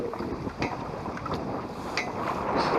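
Gusty, cold wind buffets the microphone outdoors while fishing for channel catfish, a rough rumbling rush that swells toward the end, with faint splashing-like bursts.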